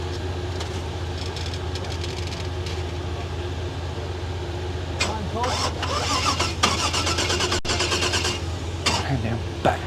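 A rock crawler reverses on a rock wall, its engine a continuous loud rumble with revving surges and clattering, while people shout over it.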